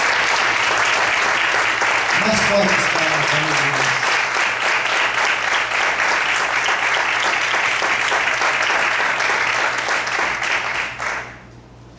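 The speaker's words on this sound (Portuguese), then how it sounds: "Você pode aplaudir com alegria ao Senhor nessa noite." A church congregation applauds during a Portuguese-language sermon on Proverbs, a loud, sustained, dense clapping that holds for about eleven seconds before cutting off abruptly, with a voice briefly speaking over it early on.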